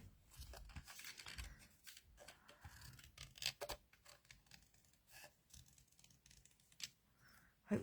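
Scissors trim a papercraft card with a textured surface, giving soft irregular snips, scrapes and rustles of card stock, close but faint, with no one talking.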